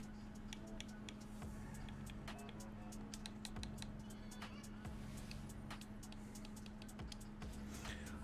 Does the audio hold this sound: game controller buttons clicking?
yes